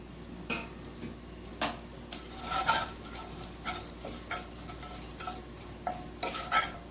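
Fried onions, bay leaves and whole spices are stirred in hot oil, a steady sizzle under repeated close spoon scrapes and clinks against the pan, with no talk.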